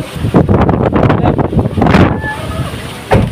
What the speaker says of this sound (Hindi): तेज हवा चल रही है यार, देख सकते हैं बहुत तेज हवा चल रही है